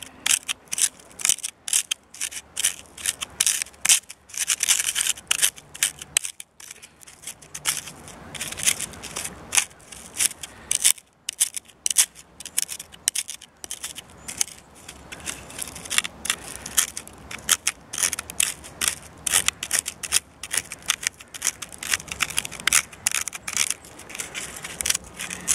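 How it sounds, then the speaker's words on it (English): Potassium permanganate and sugar are ground together by hand. Close, irregular gritty crunching and scraping strokes repeat in bursts with brief pauses, and no voice is heard over them. "Then we're just going to grind it, just to try and create just a little bit of heat."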